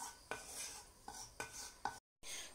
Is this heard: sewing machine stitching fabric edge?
no